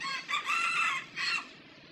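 A rooster crows in a long, strained call, followed by a shorter second crow, fairly close and clear.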